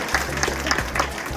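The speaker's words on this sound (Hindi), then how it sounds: "बच्चे अपने तालियों से इस मंच को गड़गड़ाहट के साथ में उफान देते हैं" Children clapping together at a school Independence Day celebration in India, a sustained wave of applause from a crowd with uneven rhythm, heard under someone speaking over it.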